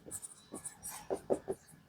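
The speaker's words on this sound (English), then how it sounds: "I will literally go off to the side of the board and write assignments." A marker writes on a whiteboard in a few short, faint squeaky strokes that come in quick succession, with no one talking.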